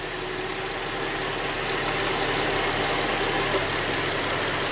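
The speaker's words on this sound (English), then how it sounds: "Yes, the engine definitely is stumbling and off and runs smoother." A GM V6 engine running rough and stumbling during ignition testing on bank 2, a dense, steady broadband roar with an uneven low-end pulse, loud and continuous with no talk.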